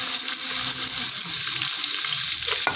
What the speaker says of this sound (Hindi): प्याज डाल रही हूँ,